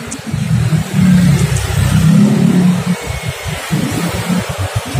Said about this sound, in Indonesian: Oke, nyala ya motor ya, tanpa kunci kontak ya